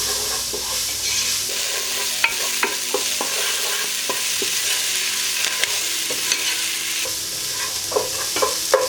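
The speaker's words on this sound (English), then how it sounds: "Whip those in there, and again just give them a good stir, keep them moving." Onion, garlic and spices stirred in a pan for a sweet potato and butternut squash soup, a steady sizzle with repeated sharp scrapes and clicks of the utensil against the pan, close and alone.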